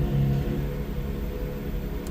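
Steady low engine rumble from a 2022 Porsche Macan GTS, idling or running at low revs in a sport drive mode, close and continuous, with no talking.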